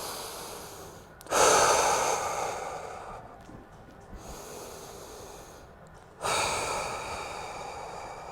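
Deep breathing during a thoracic spine mobility drill on a stability ball: two long, close, breathy inhales with slower exhales between, steady and unhurried, no talk.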